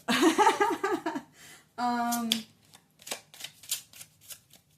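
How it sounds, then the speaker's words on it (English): A quick shuffle of tarot card decks, soft riffling and flapping bursts in short runs, heard up close after a stretch of speech and a brief vocal sound. "I'm just giving my decks a quick shuffle."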